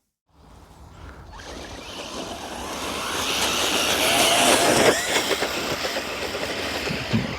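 An ARRMA RC stunt truck, a Vorteks converted to Outcast on 4S power, drives and pulls a wheelie, its motor whine and tyre roar building steadily and staying loud to the end.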